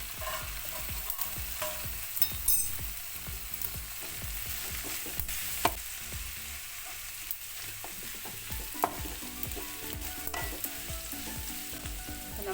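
Green beans sizzling and being stir-fried for Kerala beans mezhukkupuratti as garam masala goes in, a steady close hiss of oil with repeated spatula scrapes and taps against the pan, no talking.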